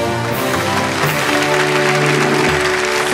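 A group applauds steadily throughout, with dense continuous clapping under a bed of music or tonal background, loud and close for about three seconds.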